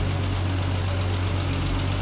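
A 1973 Triumph TR6 convertible's inline-six engine idles steadily with a low, even rumble, continuous and close throughout with no voices.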